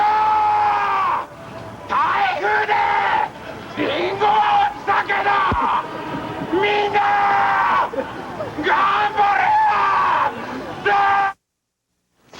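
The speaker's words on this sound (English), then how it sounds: "Today, the Japanese held their national shouting competition." Contestants at the Japanese national shouting competition bellow long, strained yells one after another, loud and close with crowd noise between shouts, ending in sudden silence.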